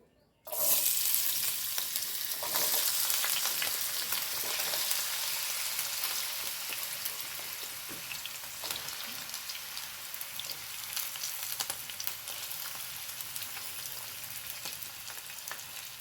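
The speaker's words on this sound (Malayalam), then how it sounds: "ആദ്യം ഞാൻ ഉരുളക്കിഴങ്ങ് ഇട്ട് കൊടുക്കുന്നുണ്ടേ" Potatoes sizzle and fry steadily in hot oil in a pan, a loud, dense crackle that bursts in suddenly and holds on with faint scattered pops, no voices over it.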